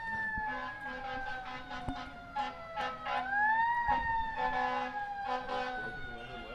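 Ambulance siren wailing near a varsity soccer game, a loud rising and falling tone that holds steady before sweeping down and back up, with a low rumble of traffic underneath.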